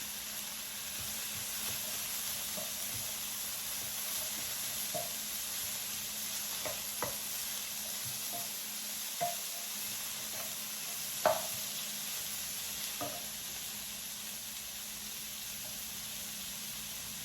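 Garlic and andouille sausage frying in a pan, a steady bright sizzle throughout with occasional soft stirring scrapes and small pops.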